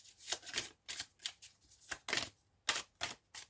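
A deck of tarot cards is cut and shuffled up close, giving a quick series of crisp riffling snaps with short pauses between them and no talking.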